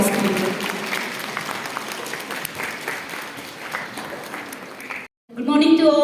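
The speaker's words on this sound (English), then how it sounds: "give her a huge round of applause, please" Audience at a national seminar on women police stations at Saint Claret College, Ziro, claps in a steady, dense round of applause for about five seconds; after a brief silence, a voice begins speaking.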